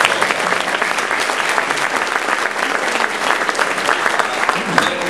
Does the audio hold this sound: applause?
yes